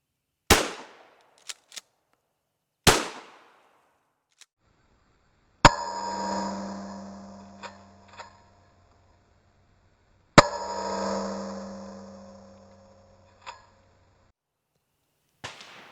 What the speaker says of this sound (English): All right, I'm going to take my shots.